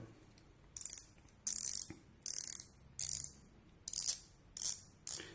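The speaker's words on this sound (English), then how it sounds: "If you have a couple of ratcheting spanners, as I call them, that'll do the job for you." A ratcheting spanner clicks in seven regular bursts of rapid pawl clatter, each about half a second long with brief pauses between, close and clear with no talking.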